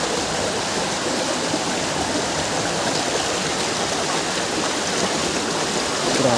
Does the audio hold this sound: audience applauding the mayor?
no